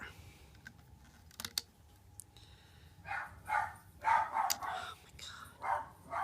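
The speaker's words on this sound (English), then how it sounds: "She has to bark when I'm making a video." A dog barks in short bursts from a room where rainbow loom bracelets are being made on two looms, several loud sharp barks clustered through the latter half over faint background noise.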